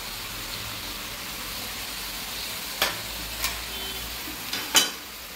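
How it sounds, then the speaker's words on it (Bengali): Boiled cabbage and green peas fry in a pan with a steady, soft sizzle, with a few sharp stirring scrapes and clinks near the end. "মটরশুঁটিগুলো দিয়ে দেবো।"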